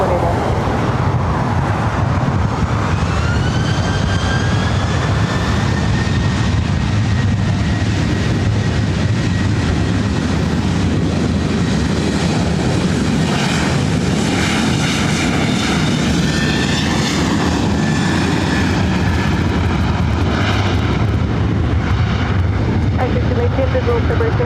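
A heavy Boeing 787 Dreamliner takes off at LAX with a loud, sustained jet engine roar and rising whine, steady and close. Air traffic control radio talk runs over part of it.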